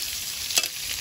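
Potatoes dropped into hot oil with bay leaf, whole cumin and whole garam masala, giving a steady bright sizzle with one louder burst of crackling midway through.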